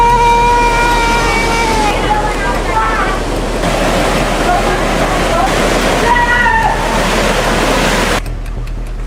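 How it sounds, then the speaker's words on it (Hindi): Drain water rushing fast into the Ganga river, a loud constant roar of water with tonal sounds and possible voices mixed in. "नाले का पानी काफी तेज रफ्तार से गंगा नदी में समा रहा है"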